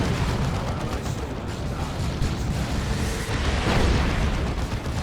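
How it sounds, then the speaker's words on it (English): Lascannon shots and explosions in the Dawn of War 2 strategy game, a dense, steady roar of battle with overlapping blasts and impacts and no clear gaps between them. "He's taking las cannon shots now."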